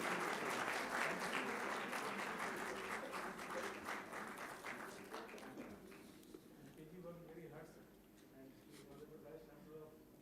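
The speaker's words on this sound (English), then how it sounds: "Please give a big round of applause." At a university convocation, an audience claps in loud, dense applause that gradually thins and fades over several seconds, with voices faintly audible beneath it.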